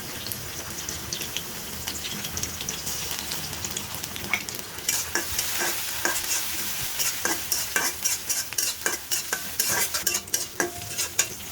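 Chili paste is stirred into hot oil and onions in a frying pan for a Bengali bean and potato bhaji, with a steady sizzle throughout and a run of sharp spoon scrapes and clinks growing busier toward the end.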